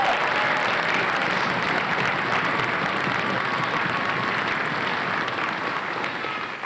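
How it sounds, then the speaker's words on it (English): Steady, dense clapping from a large crowd at a school band concert that holds at full strength throughout, easing off only slightly at the very end. "Give these people a round of applause."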